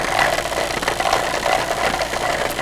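A chocolatier's tempering machine buzzes and rattles steadily while a chocolate mold is vibrated on it to release air bubbles, a loud continuous mechanical drone with no talk.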